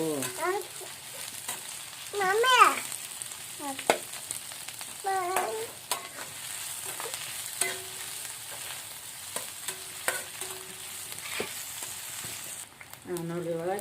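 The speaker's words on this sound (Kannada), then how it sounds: "ಚೆಂದಾಗಿ ಉಳ್ಳಾಗಡ್ಡಿ ಮೆಣಸಿಕಾಯಿ ಹಾಕಿ ಮೆತ್ತಗಾಗಿ ಫ್ರೈ ಆಗುತ್ತೆ" Onion and green chillies fry softly in a pan, a steady sizzle with intermittent scraping stirs, while someone speaks in brief bursts over the cooking.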